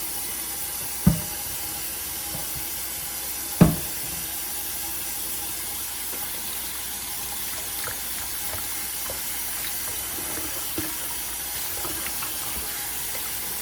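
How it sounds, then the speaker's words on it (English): A kitchen sink tap runs steadily while hands are washed beneath it, a constant hiss of flowing water with a couple of sharp knocks early on, heard alone with no talking. "First thing I'm gonna do is I'm gonna wash my hands."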